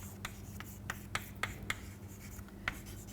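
Chalk or marker writing by hand on a board during a mathematics lecture on integral dependence, heard as a series of short, crisp scratching strokes in an irregular rhythm, fairly faint and close, with no talking.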